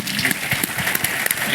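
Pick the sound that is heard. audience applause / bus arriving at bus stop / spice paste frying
audience applause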